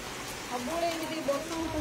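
Rain falling outdoors in a village, a steady broadband hiss that runs through the whole moment with faint voices and tonal sounds mixed in.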